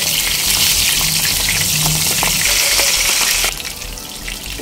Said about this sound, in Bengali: মিডিয়াম ফ্লেমে মাছ হালকা লালচে করে উল্টে পাল্টে 2 পিঠ ভেজে নেব